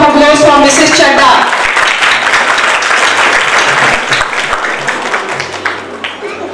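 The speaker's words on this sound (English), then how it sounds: "Please, once again, round of applause for Mrs. Chadda." Audience applause at a school annual day function, loud and sustained clapping that fills the hall, a voice briefly heard at the start before the clapping slowly thins toward the end.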